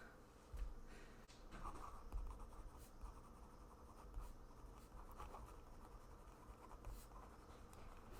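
Pen or pencil scratching across paper in soft, continuous strokes, quiet and close with no talking.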